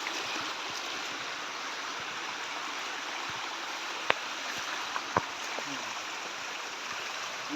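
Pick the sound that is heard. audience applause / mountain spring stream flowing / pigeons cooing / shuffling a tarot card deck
mountain spring stream flowing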